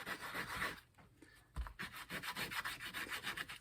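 Sandpaper rubbing rapidly back and forth over the rough, grinder-cut edges of a homemade cigar box guitar pick, a close, steady scratchy rasp with a brief pause partway through.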